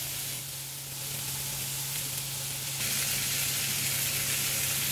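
Beef for Korean beef BBQ sizzles steadily in a hot pan, a loud continuous hiss that swells louder midway, with no talking.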